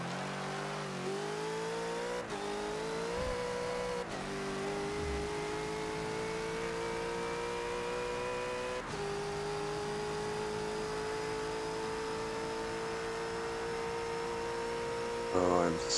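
A Bentley GT3 race car pulling out of the pits at Hockenheimring in Forza, a steady droning engine note rising through a couple of quick gear changes, then holding a smooth sustained whine.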